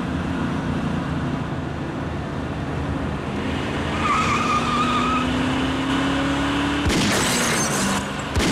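A car follows another car at night: a steady engine drone with a slowly rising pitch, tires squealing partway through, then a sudden loud burst near the end.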